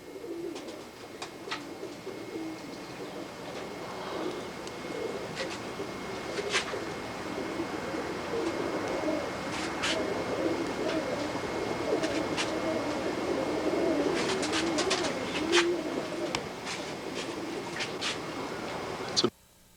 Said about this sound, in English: Just going to roll a few feet of my birds.